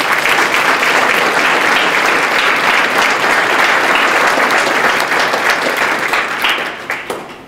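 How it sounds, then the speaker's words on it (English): A graduating high school class at an honors night applauds itself, with loud, dense clapping that fills the hall steadily for about seven seconds before tapering at the end. "Give yourselves another round of applause."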